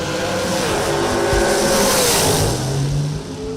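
A door car on a drag racing strip roars past in a loud, continuous engine blast lasting a few seconds, broadband and harsh, then eases off slightly at the end.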